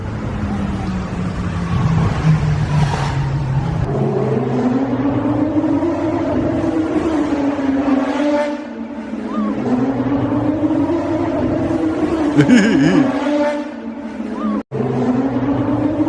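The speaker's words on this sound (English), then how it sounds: "Some really noisy cars out today, eh?" Noisy cars revving and speeding through a downtown street, engines rising and falling loudly as they fly past one after another, with a voice talking over parts of the traffic.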